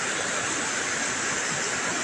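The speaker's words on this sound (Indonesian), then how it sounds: "Meluapnya sungai ditambah air dari arah pegunungan menerjang rumah warga" Floodwater from an overflowing river and mountain runoff rushes through the village of Nangawera in Bima, NTB, a steady, broadband roar of churning water, constant and fairly distant.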